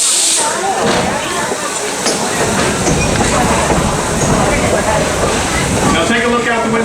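Strasburg Railroad passenger train rolling along the track, a steady loud rumble with hiss and rail clatter throughout, heard from inside the car while someone narrates over it.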